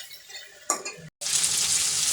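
Chicken pieces frying in hot oil in a pan for a home-style chicken curry, a steady close sizzle that briefly cuts out and then returns louder and denser.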